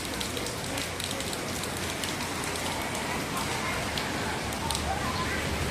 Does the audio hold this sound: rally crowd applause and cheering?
no